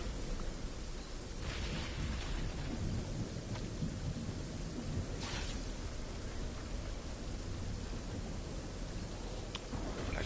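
Video game storm ambience with steady heavy rain hiss and low rolling thunder rumbles, punctuated by a few sharper cracks, continuous and fairly distant with no talking.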